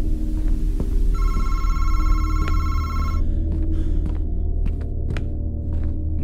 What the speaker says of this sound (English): Okay, we're getting a phone call.